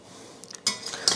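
Pressure cooker lid being opened after cooking country chicken, with a few soft metallic clinks and a louder clank of the lid, close by and quiet, no talk.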